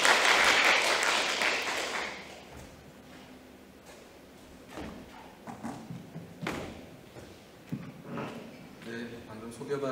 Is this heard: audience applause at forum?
yes